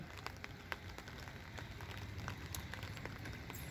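Rain falls on a terrace garden, a faint steady patter of drops with occasional sharper individual taps against surfaces, continuous and without speech.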